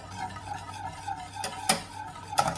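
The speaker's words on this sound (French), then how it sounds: "On mélange bien." Mixture for a shrimp and spinach lasagna being stirred in a pot, heard as soft scraping with a few sharp clinks of the utensil against the pan over a low steady hum, close by.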